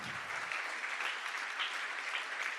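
An audience at a town hall breaks into sustained applause, a dense wash of many hands clapping at moderate distance with no talk over it.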